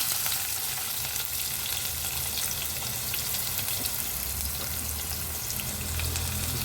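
Onions with green chillies frying in a pan for a home-style curry, giving a steady, dense hiss of oil that runs without pause throughout.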